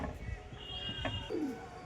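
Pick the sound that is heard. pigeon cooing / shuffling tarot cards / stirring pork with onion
pigeon cooing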